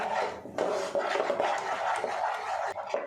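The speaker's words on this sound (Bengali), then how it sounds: "একটু নাড়াচাড়া করে নেব" A spoon scrapes and rubs through thick jackfruit paste mixed with custard powder in a cooking pan, giving a close, continuous stirring sound with soft scraping strokes.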